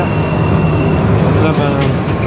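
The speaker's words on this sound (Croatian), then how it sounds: "Tramvaj, mislim." A tram rolls past close by in a city street, a loud continuous rumble of wheels on rails with a thin high metallic squeal running over it.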